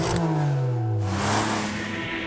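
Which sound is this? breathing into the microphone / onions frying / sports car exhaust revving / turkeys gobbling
sports car exhaust revving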